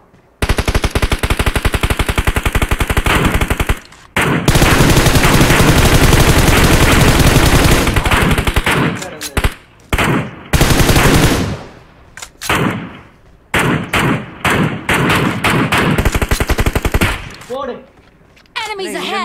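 Automatic gunfire from the mobile battle-royale game PUBG Mobile, long loud bursts of rapid shots that stop and restart in choppy volleys, with a voice talking in between.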